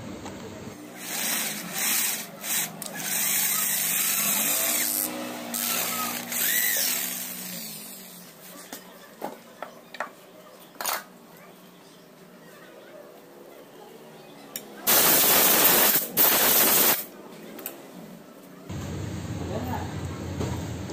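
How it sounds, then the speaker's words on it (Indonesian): A power drill with a size 7 bit drills into a bolt, whirring in several bursts, revving up and down, with pauses and some clanking between, and a louder high-pitched run near the end. "langkah pertama kita bor dulu. Kita bor dengan menggunakan"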